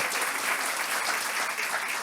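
Stand-up comedy audience applauding, a dense, sustained burst of clapping that fills the room evenly from start to finish without pause.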